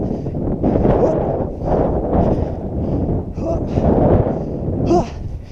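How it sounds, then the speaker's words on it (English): Cold wind gusts over a misty mountain summit on Mont Orford, buffeting the microphone in loud, uneven bursts with breathy exclamations mixed in. "The wind. It's cold. I love it."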